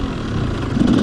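A Yamaha YZ 250 SM two-stroke motorcycle idles close by, a loud, rough, continuous burble that rises slightly toward the end, with no speech.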